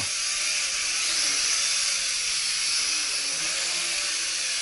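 A small electric motor in a Nihui U807 runs steadily with a high, whining buzz that seems weaker than it should be, close and continuous with no talking.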